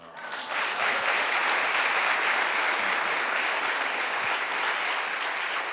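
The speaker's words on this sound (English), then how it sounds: "we just want to give him a little round of applause" Steady applause from an audience at a city commission swearing-in ceremony for the mayor, a dense wash of clapping that swells in quickly and holds evenly at moderate distance.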